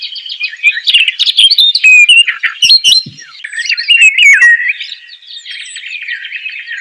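A recording of assorted birdsong plays, with dense, high, warbling chirps and trills running continuously and fairly loud, then a brief rustle midway, with no talking.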